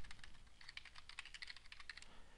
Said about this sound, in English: So you can type some text,